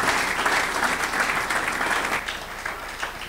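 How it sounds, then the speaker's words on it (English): Steady, fairly loud applause from a conference audience at an expo, a continuous wash of clapping with no talk over it, tapering slightly near the end. "A louder round of applause,"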